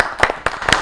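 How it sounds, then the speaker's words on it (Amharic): An audience of children and parents clapping at an Ethiopian TV children's quiz show, a few sharp close bursts of applause in a short burst. "ሁሉም አጨብጭቡላቸው"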